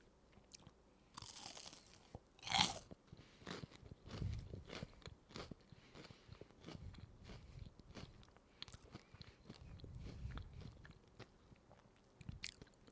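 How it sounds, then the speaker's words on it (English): A crunchy snack is bitten and chewed up close, with a loud sharp crunch early on followed by steady, repeated crackling chews and smaller bites throughout. "But you all heard how crunchy this is."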